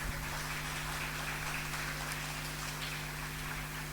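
Dense, steady clapping from an audience fills the space in a continuous wash, with a low constant hum running underneath and no talking.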